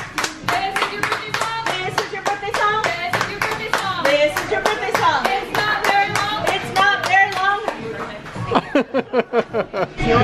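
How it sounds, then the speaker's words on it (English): A restaurant crowd at Bubba Gump Shrimp Company on Universal Studios CityWalk claps along to a birthday song, with steady rhythmic claps under loud group singing and a few chuckles. "You guys will clap along to me."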